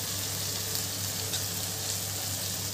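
Spices and chili powder sizzle and fry in a hot pan for a Telangana village-style chicken curry, a constant dense crackling hiss that stays loud and even throughout.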